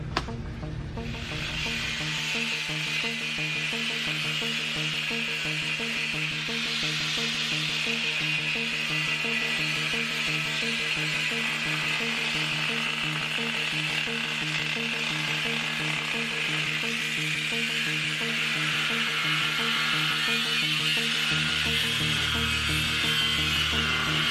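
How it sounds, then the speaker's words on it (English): A power tool grinds steadily through the end cap of a Honda S2000 car muffler. The harsh, continuous, loud cutting noise lasts about twenty-four seconds with an underlying hum and no speech. "so now we've cut the end cap"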